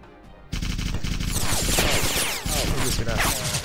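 Aircraft machine guns in The Few video game open up in a loud, rapid, continuous strafing burst after a short quiet moment, hammering steadily close up with a brief stutter midway.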